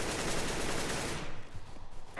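Gunfire in a Counter-Strike competitive esports match on Inferno or Dust II, a loud burst of rapid shots filling the first second, then fading into quieter game noise.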